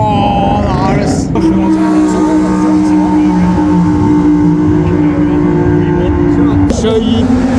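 Race cars at Coventry Motorfest, close and loud, engines droning steadily with rising and falling pitch as they pass along the track, people talking over them.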